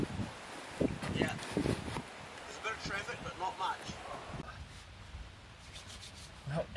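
Steady gusting wind buffets the microphone in a broad rushing roar, with people talking over it for much of the time.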